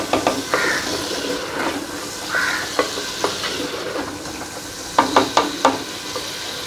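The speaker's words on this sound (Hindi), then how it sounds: "इसे 2 मिनट के लिए भूनेंगे" Ginger and garlic fry in a pan with a bright, steady sizzle, punctuated by sharp spoon scrapes and taps that grow quicker near the end.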